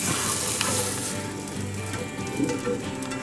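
Sea scallops sear in a hot pan with a steady, close, bright sizzle and crackle that holds evenly throughout, with no voices over it.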